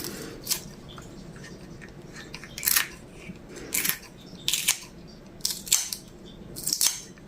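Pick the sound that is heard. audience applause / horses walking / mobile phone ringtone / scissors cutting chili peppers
scissors cutting chili peppers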